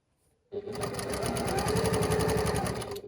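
Up close, a sewing machine stitches quilt block pieces, starting abruptly and then running in a steady, fast, even whir until the end.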